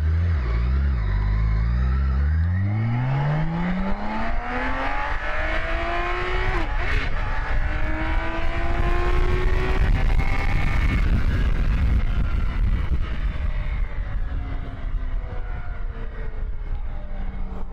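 A 2021 BMW K1600 Grand America with a 1600cc inline-six engine accelerates hard in dynamic mode, its loud smooth engine note climbing steadily through the gears and wind roaring over the rising revs, with no talk.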